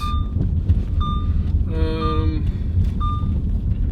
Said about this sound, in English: Annoying beep.